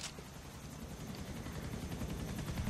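Helicopter flying in the Grand Theft Auto video game during a police chase: a steady low rotor thump with rhythmic pulsing throughout, loud and continuous with no talk over it.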